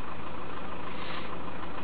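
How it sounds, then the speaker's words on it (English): A car engine idles steadily during a fuel flow check on cylinder number 3, a low continuous hum with no speech over it. "Start the engine"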